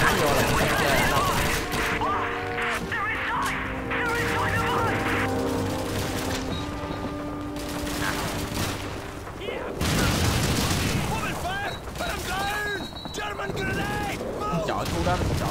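Enemy suppressive gunfire in the World War II shooter Call of Duty 2: rapid, fairly distant volleys of rifle and machine-gun shots that rattle on and off throughout, moderately quiet.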